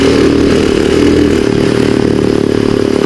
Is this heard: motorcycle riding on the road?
yes